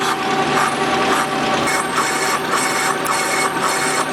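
A metal lathe turns at 107 RPM, cutting an engine-to-transmission adapter plate for a Cummins 4BT and SM465 gearbox, giving a steady close grinding and scraping with faint rhythmic pulses throughout.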